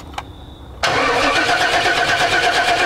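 A Pontiac Firebird engine, assembled from spare parts, cranks and catches after a brief click, then keeps running loud and steady with a slight rhythmic pulse as throttle is given.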